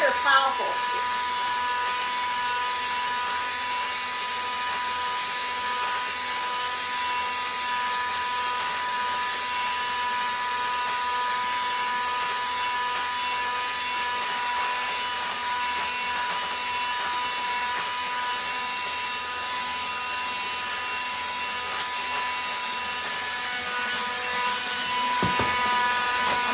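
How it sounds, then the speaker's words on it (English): A powerful electric hand mixer whirs steadily as it beats a lemon pie filling, a constant high whine held at an even level for nearly half a minute with slight dips. "It might take a little bit longer with this hand mixer, but it is very powerful."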